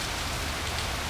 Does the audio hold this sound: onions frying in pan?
no